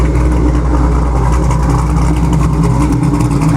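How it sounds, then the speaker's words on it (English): A 1988 Chevrolet Camaro IROC-Z fitted with an LS1 V8 and T56 gearbox idles loudly and close by, a steady deep rumble with a faint lope and no talking. "There we go, now it's idling good."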